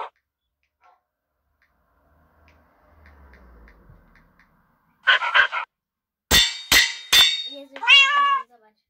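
In the Minecraft video game, a cat meows and a dog makes short sharp sounds, several loud, close bursts in quick succession after near silence with faint ticking.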